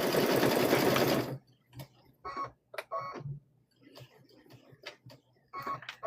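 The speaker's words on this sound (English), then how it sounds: "I do a back stitch on those." A sewing machine running a burst of fast stitching for about a second, back stitching on a quilted tote bag, followed by quieter clicks and short mechanical taps as the machine stops and is adjusted.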